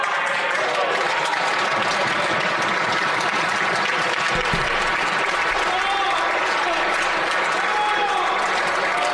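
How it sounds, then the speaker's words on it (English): Members of the Canadian Parliament clap after a speech, a continuous wash of applause with some murmuring voices mixed beneath it, steady and fairly loud throughout. "I just wanted to show a bit of the clapping."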